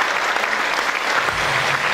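An audience at a 50th jubilee celebration bursts into sustained applause to welcome a guest, a dense, even wash of clapping from many hands that carries on loudly without pause.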